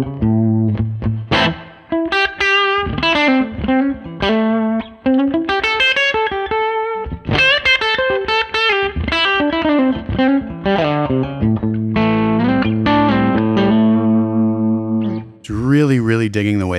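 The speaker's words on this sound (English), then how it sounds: "This is the sound of this particular tone model from my Tweed B-Man collection." Electric guitar through a Tonex Pedal with a Tweed B-Man tone model and the Tube Screamer disengaged, lightly driven notes and chords with sustained bends, close and alone, ending in a brighter strummed flourish.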